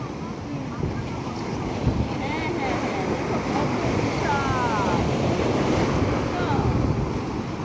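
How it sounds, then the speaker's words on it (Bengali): Ocean waves on the beach at Jeddah, a continuous roar of surf mixed with buffeting wind on the microphone, steady and fairly loud, with faint voices underneath. "ভালোই ঢেউ আছে"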